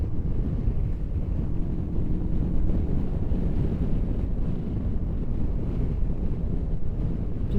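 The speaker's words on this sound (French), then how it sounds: "Là, vous voyez, je suis à 5000 tours. 5000 tours en 6ème à 110 km/h." A CFMOTO 650 MT motorcycle cruising in sixth gear at 110 km/h and 5000 rpm, heard as a steady, loud roar of wind buffeting and engine drone, constant throughout with no talking.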